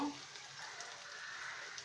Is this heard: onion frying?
yes